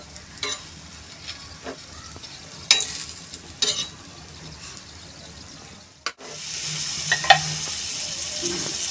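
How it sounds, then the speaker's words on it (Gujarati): Cabbage and pea paratha frying in butter on a pan: scattered scraping and tapping, then a sudden shift into a steady, hissing sizzle that continues to the end, with no voices. "બંને સાઈડ આ રીતે પ્રોપરલી ફ્રાય કરીશું આપણે બટરમાં"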